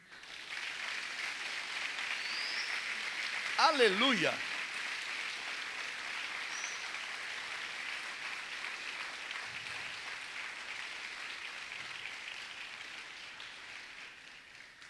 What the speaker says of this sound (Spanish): ¿Quiere aplaudirlo?